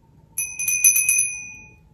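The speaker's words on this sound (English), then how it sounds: "Our bell is our call to worship." A small bell rung as a call to worship gives about six quick, bright strikes in a row, close and clear, then its ringing tone fades out alone.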